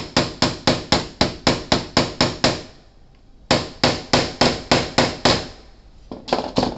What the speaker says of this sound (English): what we're going to do is we're going to just hit it with a hammer